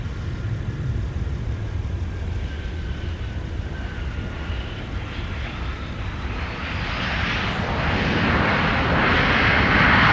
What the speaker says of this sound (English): Here's Sky West arriving with the CRJ from Aberdeen on the South Parallel.